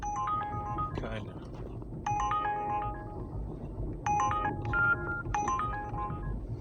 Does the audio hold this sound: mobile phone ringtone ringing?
yes